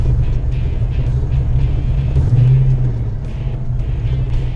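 Loud, steady rumble of car engines idling and revving nearby at a race event, with a deeper surge partway through as one engine picks up.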